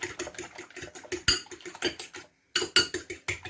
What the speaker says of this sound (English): I'm just quickly going to whisk it nicely